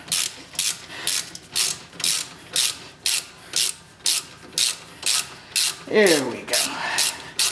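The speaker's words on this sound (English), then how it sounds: "finish taking off this top bolt on the caliper" A ratchet wrench loosening the top brake caliper bolt on a 1999-2004 Honda Odyssey, close rhythmic clicking bursts about twice a second, with a brief spoken remark near the end.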